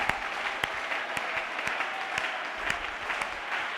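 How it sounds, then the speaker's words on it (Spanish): A church congregation applauds during worship, a steady, fairly loud wash of clapping with a few sharper individual claps standing out at irregular intervals. "Adora a Dios con un aplauso poderoso a su presencia."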